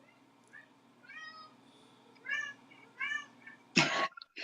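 A kitty meows several times in a row, short rising harmonic calls spaced about a second apart, followed by a sharp sneeze-like burst at the end over a quiet background hum.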